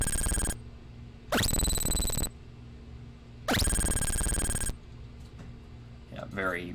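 8-bit FamiSynth chip tone with very deep modulation depth, harsh buzzing bursts that switch on and off in a strange, jittery wobble, with a voice talking briefly near the end.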